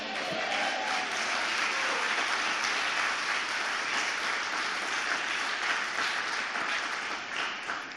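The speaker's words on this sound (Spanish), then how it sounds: "que ese aplauso sea para Él" Sustained applause from a church congregation fills the space, a dense, steady wash of many hands clapping together at moderate loudness, tapering only slightly at the end.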